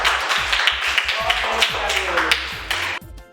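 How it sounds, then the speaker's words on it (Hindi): A small group of children in a classroom clap along, a quick run of sharp, close claps with bright transients and some voice-like tones mixed in, ending abruptly after about three seconds. "ताली बजा दीजिए भाई।"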